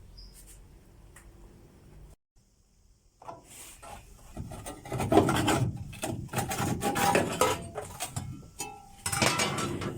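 Chiseling out spot welds on the rusty trunk pan of a 1969 Dodge Charger makes rough scraping and gritty rasping, close and steady, with choppy strikes that grow denser after a short pause.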